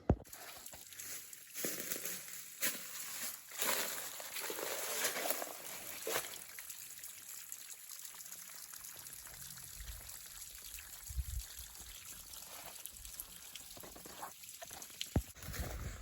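Water flowing down a natural mountain creek along the Appalachian Trail on a cloudy, cool day, a steady close trickling and pouring wash with brief louder splashes, no talking.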